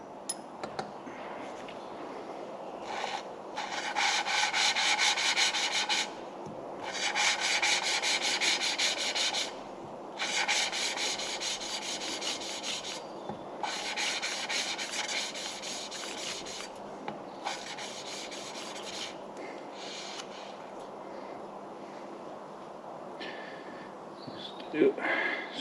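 An engine valve is hand lapped against its seat, producing bursts of gritty rhythmic rubbing, each lasting a few seconds with short pauses between, close and moderately loud.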